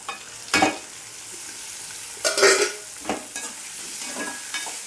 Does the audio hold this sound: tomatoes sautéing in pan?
yes